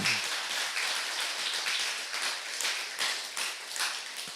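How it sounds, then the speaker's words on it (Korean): A church congregation claps together during a service marking the church's twelfth anniversary, giving a steady, fairly soft wash of applause that continues without a break. "우리 하나님께 영광의 박수를 한번 드립시다"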